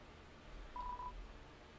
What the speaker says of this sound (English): The phone is ringing, but you can't get it.